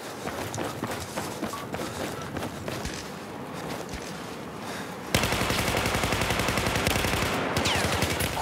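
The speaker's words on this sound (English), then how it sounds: "Majestic, don't shoot at me." Gunfire in Battlefield 4 as hurried footsteps run, then a sustained burst of loud, rapid automatic fire in the second half.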